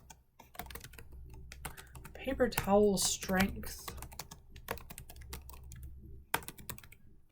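Computer keyboard keys clatter in quick bursts of clicks while a chart title is typed, with a voice speaking briefly in the middle.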